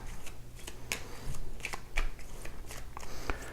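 Pandemic board game cards being shuffled by hand, a few brisk riffling bursts with soft snaps and taps, close and clear with no talking.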